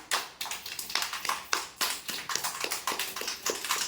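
A group of children keeps clapping in a rapid, somewhat ragged rhythm, the many crisp claps overlapping at close range and filling the moment without any talk.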